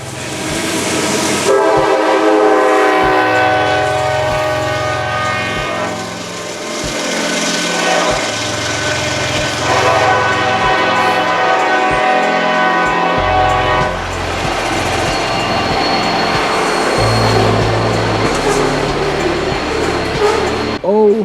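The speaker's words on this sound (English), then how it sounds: "we are right in the midst of Norfolk Southern 242 and Norfolk Southern 243, getting ready to pass us right where we're at." Norfolk Southern freight trains passing at a meet: loud, sustained horn blasts over rumbling, rhythmic clatter of rail cars rolling by close, with voices talking in between.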